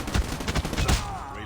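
Rapid bursts of HVK-30 assault rifle fire in a multiplayer shooter video game, a fast run of loud close shots over about a second before tailing off.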